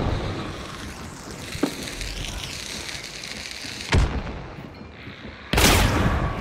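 Shotgun blasts in Hunt: Showdown, a few loud sharp booms spaced seconds apart over a steady ambient background, with no talk.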